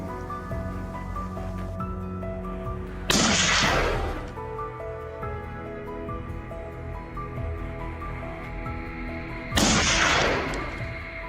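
Two loud sharp gunshots from a hunter's rifle firing at a wild boar on a mountainside, spaced several seconds apart, each with a brief decaying echo over a background of tonal music.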